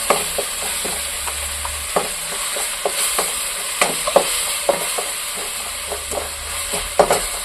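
Ginger garlic paste frying in oil for a chicken curry, with a soft continuous sizzle broken by regular sharp scrapes of a spoon stirring against the pan, close by.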